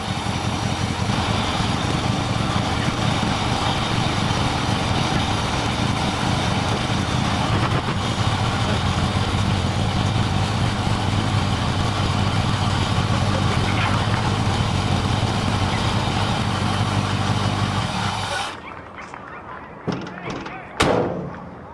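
A warmed-up 1966 Ford F250 pickup engine idles loudly and steadily for most of the stretch, then shuts off, leaving a few scattered knocks and clunks in near quiet.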